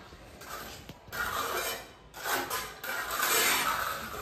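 A concrete countertop surface is rubbed smooth with a hand tool, giving a soft continuous scraping that comes in close, uneven passes with short breaks; no talking.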